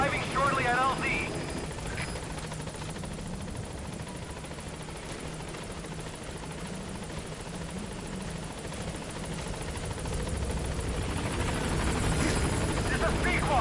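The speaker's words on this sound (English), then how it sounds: "vamos a pedir un helicóptero y nos vamos de misión" A helicopter in Metal Gear Solid 5 arrives at a landing zone, its steady rotor thrum swelling louder toward the end, with game radio chatter and a streamer talking over it.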